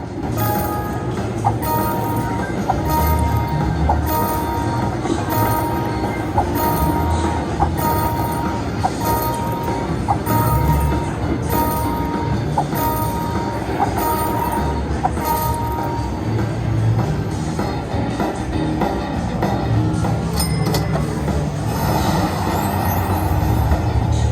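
Busy, dense electronic audio from a Luxury Line Buffalo slot machine's train bonus in a Las Vegas casino, with a repeating chime-like tone pattern over a rumbling train-like hum, steady and loud throughout.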